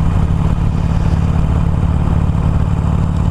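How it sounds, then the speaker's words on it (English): Harley-Davidson Iron 883 motorcycle exhaust while riding, a steady loud low engine drone with some clatter, constant throughout with no speech. "So I've decided I don't like the sound of the exhaust"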